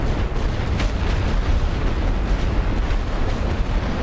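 Artillery shelling in The Great War: Western Front, a World War I strategy game, heard as a dense, continuous rumble of distant bombardment with scattered dull booms and pops and no talk.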